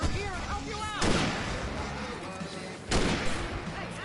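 Gunfire and fireworks in Alan Wake Remastered come as two loud, sharp bursts about two seconds apart, each followed by a crackling, rumbling tail, while people shout and talk throughout.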